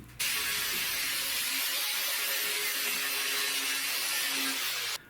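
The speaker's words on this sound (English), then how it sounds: "I will clean it up here first with my wire wheel" Wire wheel on a power tool scouring 1/4-inch steel plates before welding, a loud continuous abrasive hiss with a whining hum that starts and stops abruptly.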